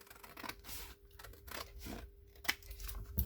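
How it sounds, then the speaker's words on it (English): Scissors cutting paper during a papercraft project, a few short crisp snips and rustles spread across a quiet stretch with no talking. "then I'll just cut it"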